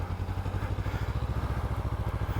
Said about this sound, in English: From the sound of the exhaust, also I think the exhaust looks the same